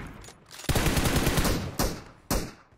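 Automatic gunfire in the mobile shooter BGMI: a long, loud, sustained burst followed by two short, sharp bursts, close and dominant.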